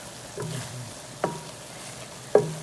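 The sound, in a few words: stirring meatballs in sauce in a pan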